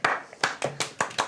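Slow, deliberate clapping from one or a few people at a tabletop roleplaying game session, six sharp separate claps in an even rhythm, close and clear with no talking over them.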